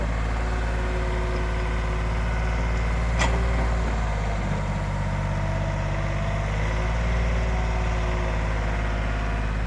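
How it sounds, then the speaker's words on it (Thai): A Yanmar 50 hp diesel engine idles steadily on a small Kobelco excavator, a close, continuous low rumble with even harmonic drone and a faint brief clank partway through. "อันนี้เป็นเครื่องยนต์ยันมา50 แรง นะครับ"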